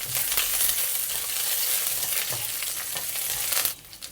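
Thin slices of young ginger frying in hot oil in a wok, a loud close sizzle with stirring scrapes and knocks, dropping off abruptly near the end.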